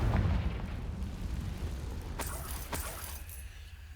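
The Confringo fire-blast spell goes off in Hogwarts Legacy as a muffled, rumbling boom that fades, followed by a couple of sharper crackling bursts. It is fairly quiet overall.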